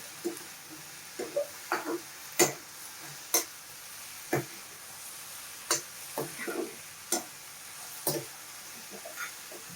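Green chillies deep frying in hot oil for butter chicken give a low sizzle, broken by sharp scattered clinks and scrapes of stirring, close by and fairly quiet, with no talking.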